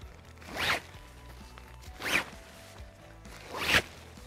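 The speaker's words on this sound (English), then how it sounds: "Zippers seem to be pretty good." Three quick tent zipper pulls, evenly spaced about a second and a half apart, each a short bright zip close to the microphone in a quiet room.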